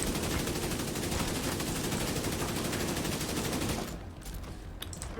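Enemy gunfire in The Division 2 pours out as a dense, continuous burst of automatic shots. It is loud and close for about four seconds, then cuts to a few scattered pops.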